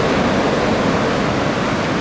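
Ocean surf at a surf break in Anglet on a long west-northwest swell, a steady loud broadband roar of breaking waves and wash filling the whole stretch with no pauses.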